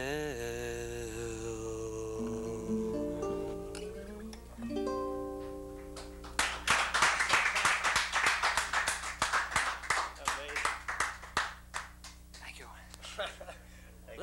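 Audience at a live anniversary show in Somerville breaks into a burst of clapping and applause after a few seconds of tonal sound, dense rapid claps that rise, then thin into scattered hand claps.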